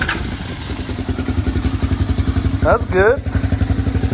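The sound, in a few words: Honda 250SX motorcycle engine running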